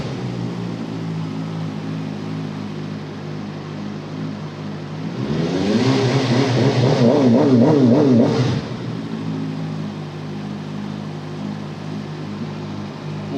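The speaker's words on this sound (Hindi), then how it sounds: "मुझे लगता है इसके अंदर रेव लिमिटर दिया हुआ है इन्होंने, जिसकी वजह से ये थ्री 3000 आरपीएम से ऊपर नहीं जा रहा।" A 2026 VOGE RR 500S inline-four sportbike idles, then its engine is revved hard against a rev limiter held near 3,000 rpm, a loud buzzing surge of a few seconds before dropping back to a steady idle.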